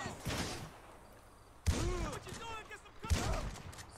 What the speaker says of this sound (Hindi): अरे भाई साहब, इधर तो फायरिंग हो रही।